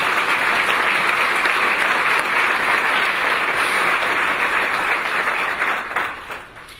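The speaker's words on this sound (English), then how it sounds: "Let's give Mitch and team a round of applause because they're awesome" Steady, loud audience applause fills a State of the City address hall in Nampa, sustained dense clapping that fades out near the end.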